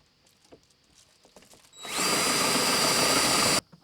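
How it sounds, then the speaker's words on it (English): A power drill boring a hole with a 1/2 inch bit, spinning up to a loud, steady high-pitched whine for about two seconds, then stopping abruptly; faint handling noises come before it. "I will now step up to this 1/2 inch bit."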